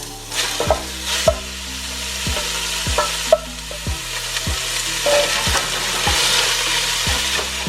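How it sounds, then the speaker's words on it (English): Ground brisket frying in olive oil in a pot, a loud, steady sizzle with regular stirring knocks and scrapes every half second or so, close up with no talk. "So I've got maybe 1 teaspoon, 2 teaspoons of olive oil in that pot heating up. And we're gonna come back with that ground brisket"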